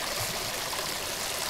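A small creek at a campsite that feeds a waterfall, giving a steady broadband rush of flowing water, close and continuous with no pauses.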